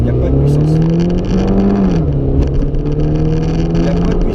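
Mini Cooper S with an automatic gearbox pulling away hard from a standing start, a loud steady engine drone rising gently in pitch throughout, heard close up with no speech.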